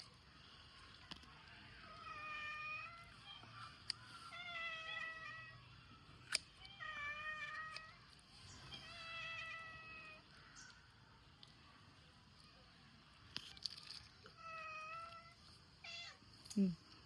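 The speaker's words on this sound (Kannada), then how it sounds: "ಇವಾಗ ಇನ್ನೊಂದು ಬೆಕ್ಕು ಕೂಡ ಬಂತು" Two cats meow again and again while catfish is cut and cleaned nearby, with repeated mid-pitched meows in bursts, fairly close, over quiet background noise.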